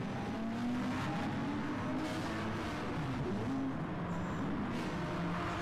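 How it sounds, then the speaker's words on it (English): A GT3-class race car in GT Sport at the Austria circuit lights up its tyres rejoining the track, its engine droning and wheels spinning in a continuous, moderately loud roar with no talk. "Comes back on the track, lights up the tyres again."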